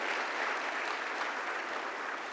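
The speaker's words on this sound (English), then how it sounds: "Give them a round of applause." An audience applauds at a conference opening ceremony in a convention center, a steady, fairly distant wash of many hands clapping that holds evenly throughout.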